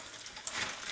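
Potato pirozhki fry in oil in a pan, giving a steady soft sizzle with faint crackles and no talking.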